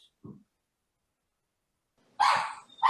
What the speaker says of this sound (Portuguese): Espera um pouquinho, minha cachorra aqui resolveu latir.